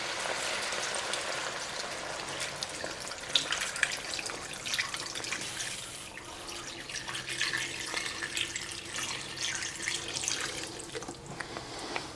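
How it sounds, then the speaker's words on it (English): Chicken broth, about four cups, poured into a soup pot, a continuous liquid splashing and trickling that runs steadily for the whole stretch at moderate loudness, with no voices. "this is 4 cups of chicken broth, and I'm going to put this in there first"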